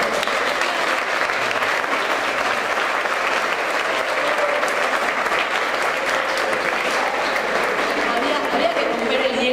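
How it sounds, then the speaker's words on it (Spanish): Steady, loud applause from an audience at a university administrative law conference, honouring the rector's birthday, a dense sustained clapping with no break. "les voy a pedir un fuerte aplauso."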